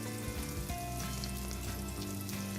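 Bread triangles for shahi tukray frying in a pan, a steady dense sizzle of hot oil, close and continuous with no talk.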